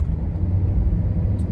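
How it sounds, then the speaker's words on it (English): Fire trucks rolling past outside make a steady, heavy low rumble of engines and road noise with no siren, continuous and fairly close throughout the short stretch, with no voices. "Fire trucks."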